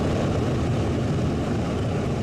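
A continuous, heavy roar of a B-29 bomber's large propeller engines, loud and close, with a dense rumbling texture and no breaks.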